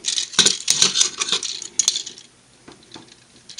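Plastic parts of a Generations Fall of Cybertron Ultra Magnus toy clicking and rattling as they are rotated and folded, a close flurry of sharp ticks early on that thins to a few scattered clicks.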